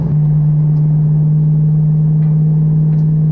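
A Foxbody Mustang runs at a drag strip at about three-quarter throttle, a loud, steady engine drone holding one low pitch throughout with no voices.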